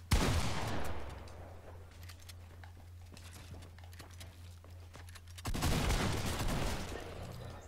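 Gunshots hit a wall in Fortnite during a tournament match, a sharp loud burst at the start, a quieter stretch of scattered clicks and pops, then another heavy burst of fire.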